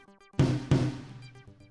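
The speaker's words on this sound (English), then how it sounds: "This is called a rack tom." Rack tom on a drum kit, two resonant hits in quick succession that boom and decay, with faint tonal background sound before and after, close but fairly quiet.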